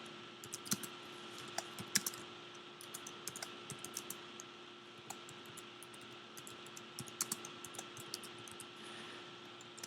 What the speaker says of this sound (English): I'm going to go ahead and type in experienced